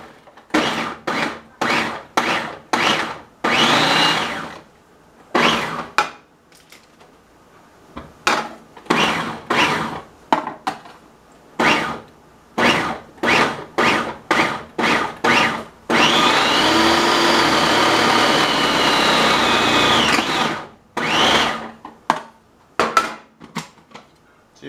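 A food processor grinds deer meat in repeated short loud pulses, then runs one sustained whir for about four seconds before more brief bursts; no talking.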